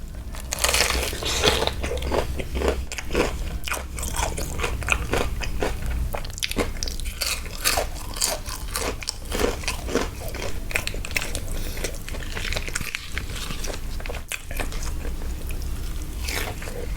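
Crispy Thai-style fried chicken from a large tray being bitten and chewed close to the mic, with loud, dense, continuous crunching and crackling throughout.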